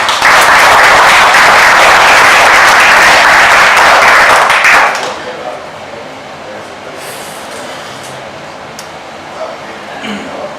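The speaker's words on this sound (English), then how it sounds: "Can we give Robert a round of applause?" Loud crowd applause for a presenter at a Dallas startup pitch event fills the first half, then cuts off abruptly, leaving quiet room noise with faint scattered sounds.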